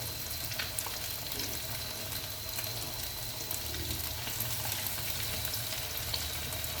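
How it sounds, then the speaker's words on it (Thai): Steady crackling sizzle of flour-coated white sea bass pieces frying in hot oil in a pan, continuous and close, with no voices. "เราก็มาตั้งกระทะนะคะแล้วก็ใส่น้ำมันร้อน แล้วก็พอร้อนเราก็ ใส่ชิ้นปลาลงไปเลยค่ะ"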